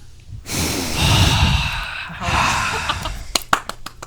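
A person's voice imitates snoring with long, loud, rasping snorts and breaths, followed by a few sharp clicks or pops at the end.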